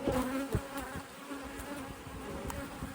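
Honeybees drone steadily at a busy summer hive, a continuous close buzz with a few brief louder passes of individual bees flying near.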